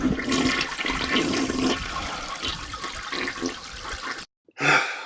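A toilet flush roars loudly and continuously for about four seconds, cuts to brief silence, then a short final gurgle of draining water.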